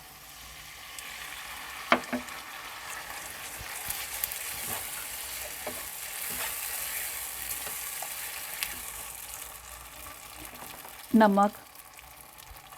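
Garlic ginger paste and tomato puree sizzle steadily in a pan for mixed vegetables, a continuous close frying hiss with a few sharp clinks and scrapes; a voice speaks briefly over it.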